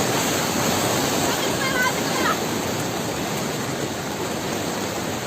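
Bono tidal bore waves surge and crash in a dense, loud, unbroken roar of rushing water, with no pauses and a faint high whistle partway through.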